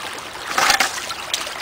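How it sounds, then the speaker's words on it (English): Gold concentrates are poured through a 1/4-inch classifier, giving a steady wet rushing trickle with a louder splashing surge in the middle, close and alone. "I'm going to pour my concentrates in here"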